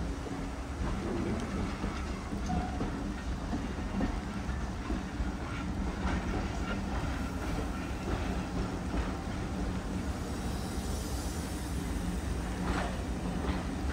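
A steam train pulls away from Froghall Station on the Churnet Valley Railway, giving a steady rumble with faint clickety-clack of carriages rolling past, continuous and fairly close throughout.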